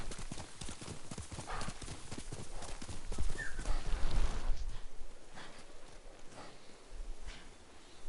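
Horse hooves clip-clop steadily in Ghost of Tsushima, a fast rhythmic gait that is loudest mid-clip, then eases to a softer trot, with a brief whinny-like call among the steps.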